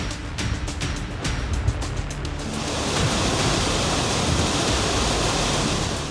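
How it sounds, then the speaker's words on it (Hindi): Floodwater roars out of dam gates near Jhansi during monsoon flooding, a loud, constant broadband rush of churning water that swells slightly after a few seconds and continues unbroken. "बांध के गेट से फुल स्पीड से निकल रहा है पानी"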